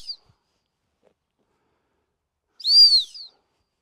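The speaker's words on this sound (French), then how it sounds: "on peut associer le sifflet aussi" A dog training whistle for a Labrador gives a short chirp at the start, then after a pause one clear, sharp blast of about half a second, sounding close against near silence.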